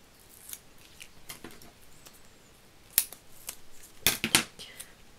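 Scissors snip several times, with sharp isolated clicks and a quick cluster of louder snips near the end, close up with no talking.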